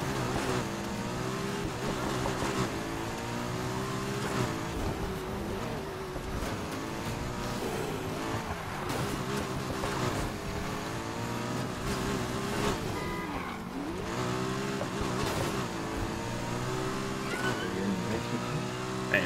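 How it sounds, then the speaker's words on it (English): McLaren race car engine in the racing video game Need for Speed Heat, a steady loud droning roar with shifting revs throughout, continuous and up close with no talk over it. "Should we take this car out for a spin"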